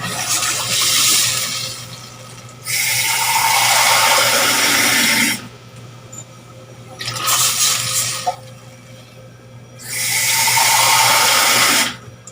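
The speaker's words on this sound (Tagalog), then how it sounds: "Lagyan ko na ng tubig." Water from a tap gushes in bursts into a cooking pot of boiling meat broth, three or four loud pours separated by pauses, with no talking.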